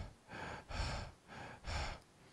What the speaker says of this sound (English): you hear your character breathing